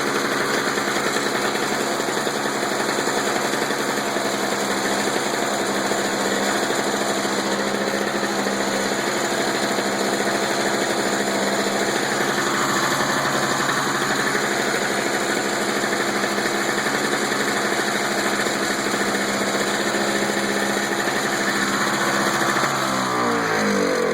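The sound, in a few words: Toro two-stroke snow blower engine running after warm start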